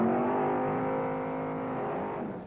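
A race car doing a burnout to heat its tyres gives a loud, sustained engine roar with a steady high-revving drone, fading slightly toward the end.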